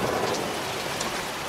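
Steady rain hisses in the horror video game DreadOut, a dense, continuous wash of falling water with low rumbling beneath, loud and unbroken.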